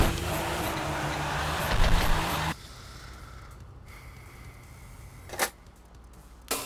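A Nissan S15 drifting in Torque Drift rasps with a steady, loud engine roar that cuts off abruptly, then gives way to quieter idle noise and a couple of brief sharp squeals.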